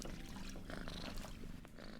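A cat purrs in the Beekeeper's Picnic video game, a soft continuous rumbling purr that stays steady and close, heard faintly alone with no voices over it.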